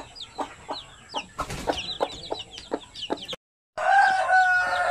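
Chickens and newly added chicks in a backyard flock: repeated sharp clucks and high chirping peeps in a loose rhythm, close by, with a brief gap of silence before louder peeping resumes.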